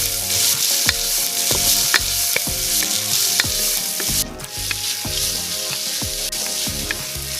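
Peppers, garlic and pepper flakes sizzle steadily in a pan of olive oil, a bright continuous frying hiss punctuated by repeated knocks and scrapes of stirring, with no voices.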